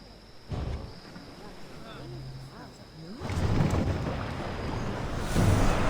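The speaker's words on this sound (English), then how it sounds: "Feel that wind!" Wind rushes around a sailing ship at sea in Assassin's Creed Odyssey, a steady blustery roar that swells louder midway, with creaking and water underneath and voices talking over it.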